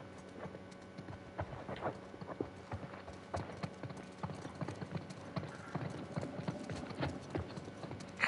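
Horse hooves clip-clop in The Last of Us Part II video game, a steady faint rhythm of several horses walking on ground, continuous throughout with light ambient noise.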